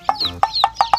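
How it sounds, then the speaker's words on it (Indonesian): A rainbow-colored chick gives five quick, high, sharp cheeps in a rapid, slightly uneven series, close and clear with no talking. "Ada ayam rainbow"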